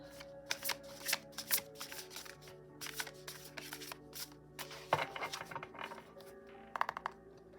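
Tarot spirit guide cards shuffled by hand, close crisp riffling flutters and slaps in irregular bursts, alone without talk.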